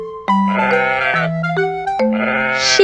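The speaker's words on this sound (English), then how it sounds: "Sheep," A sheep bleats loudly and up close in a few wavering, nasal calls with brief breaks between them, alone and without any voices.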